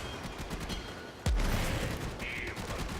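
In the Warframe video game, a Bombard enemy fires on the player, a sharp heavy blast that jumps out of a busy background of game effects, followed by a brief whistling tone.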